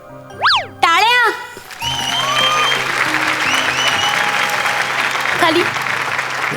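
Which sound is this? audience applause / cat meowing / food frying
audience applause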